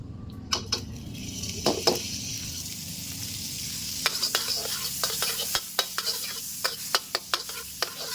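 Butter melts and sizzles in vegetable oil in a pan before enoki mushrooms are fried, a steady close crackle with repeated clinks and scrapes of a utensil against the pan.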